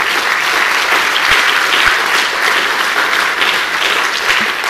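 An audience at a university convocation applauds, loud sustained clapping from many hands that continues evenly throughout, with a few louder individual claps standing out.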